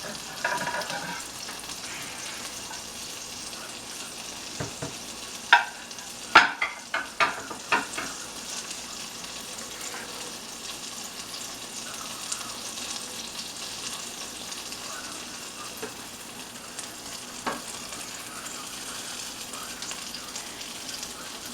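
Reuben sandwich frying in a pan under a weight, a steady low sizzle throughout with a cluster of sharp clanks and knocks in the middle and one more later.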